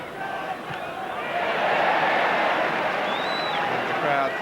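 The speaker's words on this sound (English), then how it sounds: "the crowd particularly appreciative of any tackle that Kennedy makes on Chamberlain" A large football crowd at a Liverpool versus Stoke City match roars and applauds a tackle, a broad sustained swell of noise that builds after the first second and holds loud, with a commentator talking over it.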